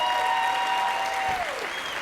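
An audience at an NAA convention session applauds and cheers for the NAA Board of Directors. The clapping is loud and sustained, with a held tone sliding downward over it.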